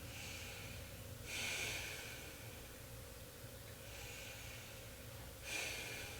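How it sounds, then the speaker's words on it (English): Slow, deep breaths taken while holding a yoga forward fold: two full breath cycles, each a soft, airy rush that swells and fades, close and quiet with no speech. "Let's breathe here."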